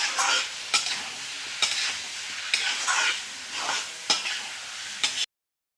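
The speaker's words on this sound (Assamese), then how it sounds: "কিছু টাইম মই মাংসখিনি ভাজি ল'ম" Chicken pieces stir-fried in a pan with tomato and onion, a steady close sizzle broken by repeated scraping strokes of a spatula, roughly every second, ending abruptly.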